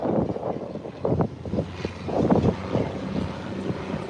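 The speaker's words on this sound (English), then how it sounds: "So the Cessna will take a short takeoff and she has turned around. She's ready to roll." A Cessna light aircraft begins a short takeoff roll, its propeller engine droning steadily with surging swells in loudness, mixed with wind buffeting the microphone.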